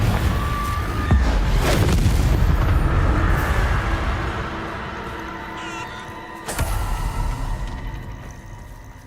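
Confringo spell blast in a video game, a loud booming explosion with a long rumbling tail, followed by a second sharp impact later.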